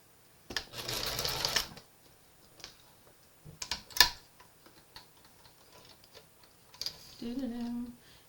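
A sewing machine zigzag-stitches the end of a fabric headband in short bursts: a dense whirring run near the start, then brief clicks and a final short burst, all close and with no talk.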